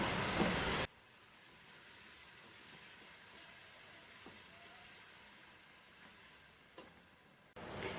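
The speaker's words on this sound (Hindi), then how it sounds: "अब हम इसमें ऐड करेंगे टमाटर। मिक्स करेंगे।" Tomatoes being stirred into a sizzling village-style mutton and bottle gourd curry, a continuous quiet frying hiss with occasional soft scrapes of a spoon, bracketed by louder bursts at the start and end.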